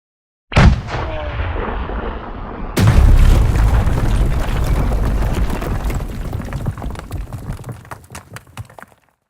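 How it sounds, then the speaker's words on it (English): A bomb blast in an online video game: a sharp boom followed by a second, bigger explosion that rumbles loudly for several seconds before fading out. "oh, there's a bomb coming"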